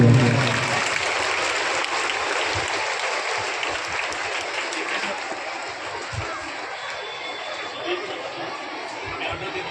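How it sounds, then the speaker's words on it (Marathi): A crowd at an 80th Independence Day celebration and parade in Pishor applauds loudly and steadily. The clapping starts strong and continues evenly, with murmured chatter mixed in. "सर्वांनी जोरदार टाळ्यांचा कडकडाट होऊन द्यावा।"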